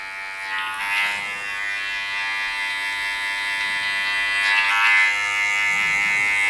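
Electric hair clippers buzz steadily while tapering a short summer haircut, set to 0.5 with the lever adjusted. The whine is loud and close, with pitch shifts as the blade works up and off the skin.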